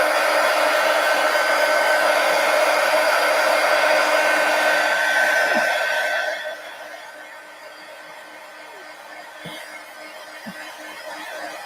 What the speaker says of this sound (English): let me go ahead and just hit this with the heat gun